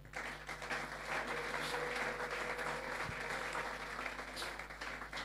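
A church congregation applauds and cheers for the Lord, a full, sustained wash of clapping from many people that holds steady throughout.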